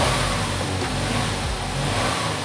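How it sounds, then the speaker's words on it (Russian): The 3.5-litre engine of a 2009 Lexus RX 350 runs loud and close, a smooth, continuous hum with a slight swell in revs and no talking over it. "Мотор работает ровно."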